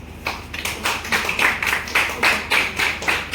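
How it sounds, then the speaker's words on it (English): Rhythmic clapping at a Jammu University event welcoming singers of a Dogri song, a group clapping in a steady repeating beat of about two claps per second, fairly close and clear. "Welcome them with a round of applause."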